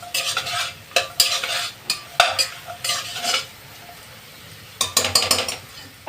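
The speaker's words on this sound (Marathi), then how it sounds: "आता आपण ह्याच्यात राईस आणि डाळ मिक्स करतोय।" Rice and dal are stirred into a sautéed mixture in a pan, giving repeated scraping and clinking strokes of a spoon against metal with a soft sizzle underneath, in uneven bursts with a short quiet gap.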